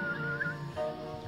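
A person whistles with a full open mouth rather than a pucker, giving a warbling, tonal melody that slides up and down over a steady background for about a second.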